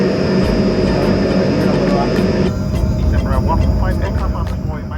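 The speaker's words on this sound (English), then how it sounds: "It was then time to turn on the engines" Steady loud engine roar fills the airliner cabin, with a broad rumble and a high whine that shifts partway through as the jet engines spool up.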